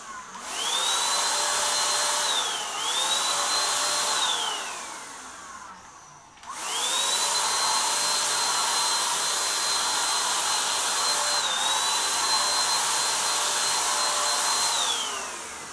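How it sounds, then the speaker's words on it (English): A Dextra cordless paint sprayer runs with a loud, steady high-pitched motor whine and hiss, spraying in two bursts separated by a brief pause, with pitch dips as the trigger eases, close up and with no talk. "That is a very nice little sprayer."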